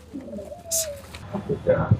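Pigeons coo briefly at a pigeon market in Tongi, a soft, close coo among the birds with people's voices and market bustle around them.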